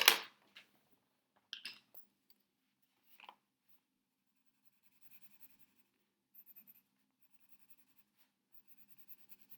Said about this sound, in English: Or you can shade it in with your pencil.